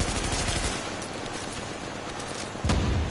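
Automatic machine-gun fire in The Division, a dense sustained burst of rapid shots with a heavy boom near the end, loud and close with no talking.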